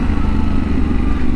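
Yamaha Tenere 700 motorcycle engine pulling a wheelie, a loud, close, continuous engine drone with a rough pulsing texture throughout the short burst.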